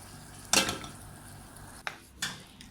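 A spoon mixes beef and rice dumplings in a pot, making a few quick metallic clanks and scrapes spaced apart over a low, quiet background, with no talking.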